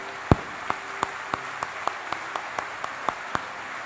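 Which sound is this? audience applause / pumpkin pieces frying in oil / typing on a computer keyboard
audience applause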